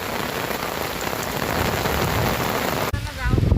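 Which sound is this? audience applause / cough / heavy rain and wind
heavy rain and wind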